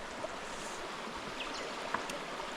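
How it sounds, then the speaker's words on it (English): Pine Valley Creek flowing along the Pine Valley Hut walk in Cradle Mountain–Lake St Clair National Park, a steady broadband rush of water with a few faint splashes, even in level and alone. "we'll call this one Pine Valley Creek"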